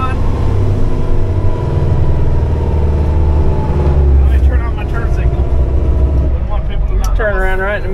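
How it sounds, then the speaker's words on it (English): Jake brake on an Oshkosh HET M1 heavy truck, a loud, sustained low engine rumble that stays steady close up throughout, with voices talking over it near the end. "There's a Jake brake."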